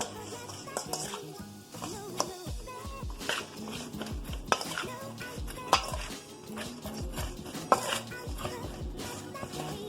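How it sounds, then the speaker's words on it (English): Liquid aminos being stirred into a vegan burger mixture, with a utensil clinking and scraping against the bowl in a busy, repeated rhythm over faint background music. "I like to add a little liquid aminos just for some extra added nutrition. And then we stir."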